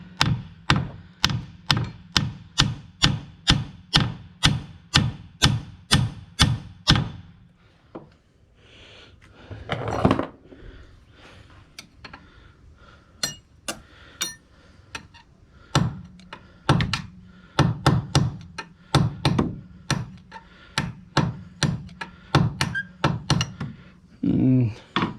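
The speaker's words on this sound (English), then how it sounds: "what I'm gonna try to do now is knock this pin out. I got a non-marring brass hammer" A non-marring brass hammer strikes a pin in the tilt trim unit of a Johnson outboard motor, delivering rapid, evenly spaced metallic thunks, then a pause with brief talk, then another steady burst of blows.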